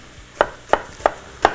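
A knife chopping onion on a cutting board, four crisp evenly spaced thuds close by with no talk.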